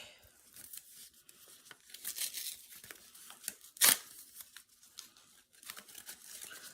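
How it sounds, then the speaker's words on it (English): Scissors snip and crinkle through material being cut for a mask nose, a series of soft irregular cuts and rustles close by with one sharper burst in the middle. "I'm trying to build the nose, but I'm really struggling because my scissors are stupid."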